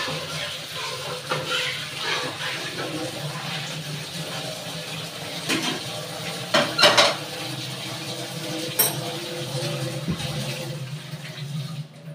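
A wok set back down on a gas stove in a home kitchen, with several sharp metallic clanks and scrapes near the middle and end over a steady background hum; no talk.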